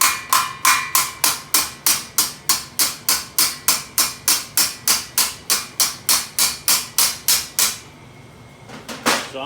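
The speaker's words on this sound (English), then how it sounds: "I'm going to bend that long piece I tack welded on there to match the curve of the rest of the pillar." Steel hammering on a welded repair piece on the cab pillar of a 1967-1972 Chevy C10 truck, a rapid steady run of about twenty ringing metallic blows, loud and close, ending in a short scrape.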